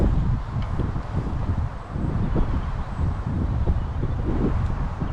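Gusty wind buffets an open fishing lake peg during a pole-fishing match, a steady low roar with microphone rumble that rises and falls without letting up.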